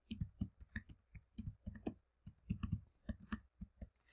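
Typing on a computer keyboard while installing R and RStudio under Ubuntu Linux: close, quiet key clicks in irregular bursts and pairs, with short pauses between runs and no talking.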